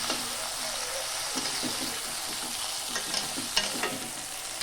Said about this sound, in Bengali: তো মাছটাকে এখন আমি ভেজে নিচ্ছি।